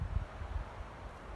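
Gusty wind blowing outdoors in an open yard where a hammock has been knocked over, a steady low rumble of buffeting against the microphone with no voices.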